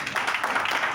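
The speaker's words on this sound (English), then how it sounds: "Round of applause." Brief burst of audience clapping at a football cup unveiling ceremony in Lagos, a short ragged patter of hands at moderate loudness.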